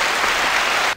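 Audience applause at a talk on overcoming rejection, a dense, loud burst of clapping filling the whole moment before cutting off abruptly.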